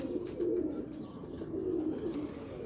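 Pigeon cooing from birds kept by a pigeon fancier, a steady low murmuring coo repeating across the moment, close by with faint chirps above.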